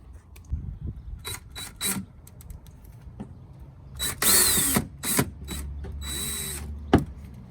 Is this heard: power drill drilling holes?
yes